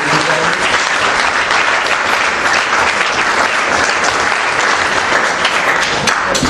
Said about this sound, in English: So if we could get another round of applause.